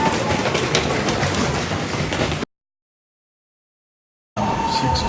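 Steady broadband rumble of a moving train, then an abrupt cut to silence before the noise resumes with a faint tone.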